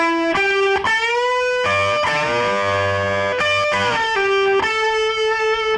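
A heavily distorted electric guitar plays a riff slowly, notes bending and sliding with sustained, buzzing tone, played deliberately alone.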